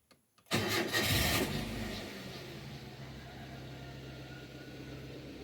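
A 2013 Toyota Avanza engine cranks briefly after a faint click, catches loudly, then settles into a steady, quieter idle close by.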